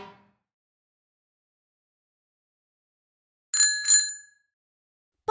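Two quick bright rings of a bicycle bell, clear and close, sounding alone after silence.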